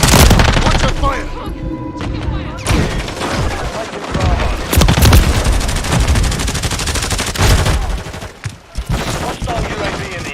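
Dense first-person shooter gunfire from a military game, loud and continuous, with rapid bursts, booms and overlapping shots filling the whole stretch, under occasional radio-style callouts.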